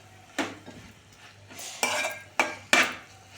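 A spoon stirs leafy-greens dal with chana dal in a pot, scraping and clinking against the metal in several separate strokes, close and fairly quiet, with no talking.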